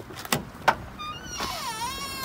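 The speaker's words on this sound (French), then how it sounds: "C'est quoi, bruit portière comme ça?" A car door clunks open and shut with a couple of sharp knocks, followed by a whirring, warbling mechanical squeal as if from the door or window mechanism, heard fairly close and without talk.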